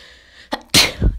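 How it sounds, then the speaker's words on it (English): A single loud, close sneeze: a short sharp intake followed by an explosive burst of breath, alone in a quiet room. "I had a fucking sneeze"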